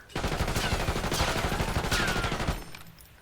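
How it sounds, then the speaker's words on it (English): Automatic weapon fired in a sustained burst in Black Ops 6, a dense rapid rattle of shots for about two and a half seconds, loud and close, cutting off abruptly. "Just stand still and shoot your whole aims without touching your right stick to see the natural recoil pattern"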